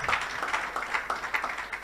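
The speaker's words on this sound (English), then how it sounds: "Let's give him a round of applause. Let's have Dr. Osage, please. Let's keep clapping, please." Audience applause at a Nigeria at 61 colloquium, a steady patter of clapping from a crowd welcoming a speaker back, moderately loud and continuous with no talk over it.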